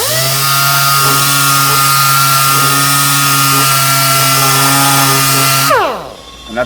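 Power tool with 60 grit abrasive sanding scale and light rust off metal, a loud continuous whining drone close by that holds steady, then winds down and stops near the end.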